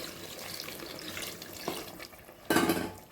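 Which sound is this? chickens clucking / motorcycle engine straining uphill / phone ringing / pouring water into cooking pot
pouring water into cooking pot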